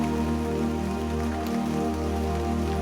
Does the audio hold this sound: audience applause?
no